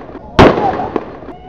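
A single sharp blast from a blunderbuss bursts out close by on a pirate-themed boat ride, followed by a smaller pop, with excited voices chattering around it.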